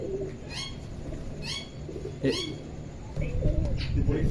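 Pigeons being fed grain give a few soft coos amid sharp bird chirps, while a faint voice and steady background hum sit underneath.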